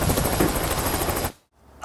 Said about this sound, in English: right now I'm about to jump off a helicopter